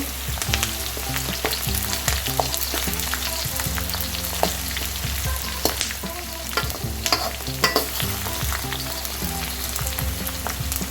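Dried onions stir-fried with other ingredients in a pan, a loud close sizzle with frequent scraping and clattering of the spoon against the pan, steady throughout with no talking.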